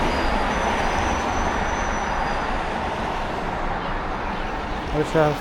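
A subway train on Dalian's line 5 rumbles past on a busy road, a loud steady roar of wheels and traffic with a faint high squeal, while a voice speaks briefly near the end.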